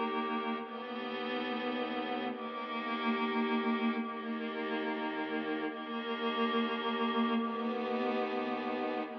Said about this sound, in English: I'm also gonna give it a little bit of reverb.